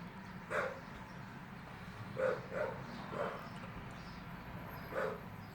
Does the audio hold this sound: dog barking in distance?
yes